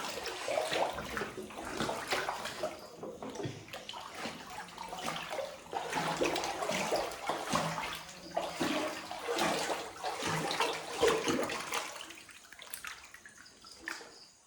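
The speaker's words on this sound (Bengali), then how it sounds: "ঘরের সামনে কতটা জল।" Floodwater surrounds a house, heard as a continuous rushing, splashing wash of water with uneven surges over about fourteen seconds, fairly close and with no clear speech.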